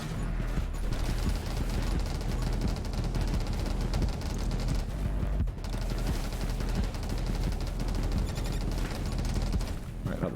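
Rapid overlapping explosions and weapon fire in the roguelike shooter game 20 Minutes Till Dawn, a dense continuous barrage at steady loudness with a brief dip midway.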